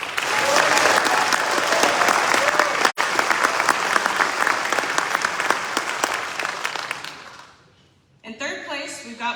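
Sustained audience applause at a military award ceremony for 2nd Cavalry Regiment event winners, loud and steady for about seven seconds before fading out, followed by a voice speaking.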